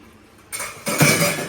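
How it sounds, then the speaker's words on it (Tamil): Pots and dishes being washed in a home kitchen after cooking fish curry, quiet at first, then a burst of clinking metal and running-water clatter that grows louder and continues. "எங்கள் பாத்திரம் கழுவிட்டுருக்காங்க"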